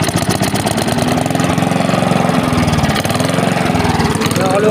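A lawn mower engine, run without its air filter after a carburetor cleaning, chugs loudly and close by at an uneven idle, with a pulsing, knocking rhythm and a voice talking over it.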